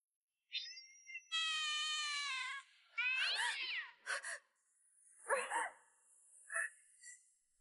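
A cat meows repeatedly, with several drawn-out, wavering cries and shorter mews in an irregular sequence, fairly close and clear against silence.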